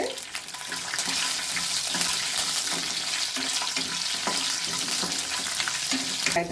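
Steady, dense sizzling and crackling of spices, curry leaves and garlic frying in hot oil, loud and close, continuous throughout with occasional stirring clatter.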